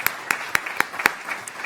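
A brief round of applause at a school board meeting, several sharp group claps in a quick rhythm with a background murmur of the room.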